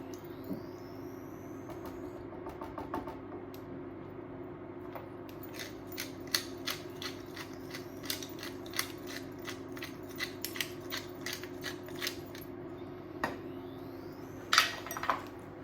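A pepper mill grinding pepper into a chicken and ham pie filling, a series of quick crisp cranking clicks in short bursts over a faint background hum, close and fairly quiet.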